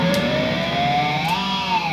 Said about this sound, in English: make sort of screeching noises with harmonics